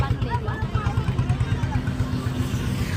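The tractor of a pilgrim walking group thumps along in a steady, regular low pulse, with people chattering over the engine.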